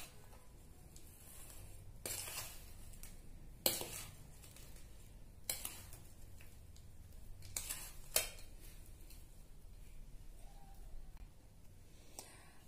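Flour, sugar and dried fruit being mixed by hand in a metal pot, giving soft scraping and stirring with a few sharp clinks and knocks against the pot, faint and intermittent.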